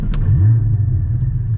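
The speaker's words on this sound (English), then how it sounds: "let's plug in and get this car started" The engine of a manual Porsche 718 Cayman GT4 starts up close by with a short starter whir and a deep rumbling catch, then settles into a steady low idle.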